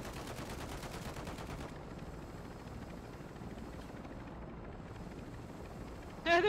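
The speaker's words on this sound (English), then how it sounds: "No, they're still shooting us." Gunfire in a video game around a heavy helicopter, heard as a rapid, evenly pulsing stream of shots over a dense mechanical roar, with a sharp louder burst at the very end.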